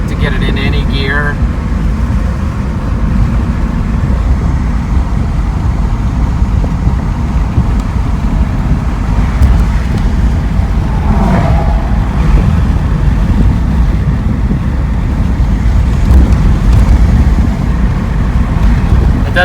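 A 1991 BMW M-Technic II convertible drives with a steady low engine drone and road noise as it moves through the gears, with someone talking over it throughout.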